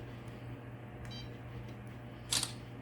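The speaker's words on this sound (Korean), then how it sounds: "이게 사진 촬영 버튼이 카메라 셔터고" A faint electronic beep and a short bright click from the camera shutter control of a FIFISH V6 Expert underwater drone, heard over a steady low electrical hum.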